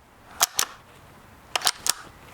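A Rossi Rio Bravo .22 lever-action rifle is cycled to feed a round, giving sharp metallic clicks: two quick clacks, a pause, then three more in quick succession, close and crisp over a quiet background.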